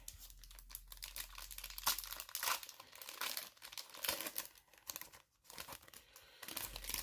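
A trading card pack wrapper is torn open and handled up close, giving a run of sharp crinkles and tearing bursts in an irregular rhythm, with brief quiet gaps between them.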